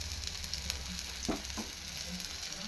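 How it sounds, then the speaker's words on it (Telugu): Bottle gourd snacks fry in about a spoonful of oil in a pan, giving a soft, quiet, continuous sizzle with a couple of brief faint clicks from a utensil. "ఇలా కాల్చేసుకున్నాము మొత్తం చూడండి ఇప్పుడైతే రెండో వైపు అయితే కాల్చేసుకున్నాము"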